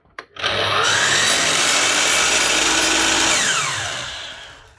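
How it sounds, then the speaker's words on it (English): A Dewalt DW718 miter saw with worn bearings whirs up to speed and runs with a steady, coarse roar, rough and slightly uneven, before winding down at the end. "Dewalt Mitersaw, sounding a bit rough, he says."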